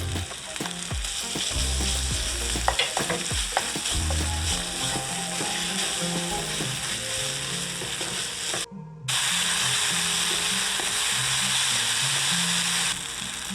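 Ginger garlic paste fries with a steady sizzle in a pan for noodle biryani, with scraping stirring clatters early on and a brief cut before the frying resumes, continuous and close.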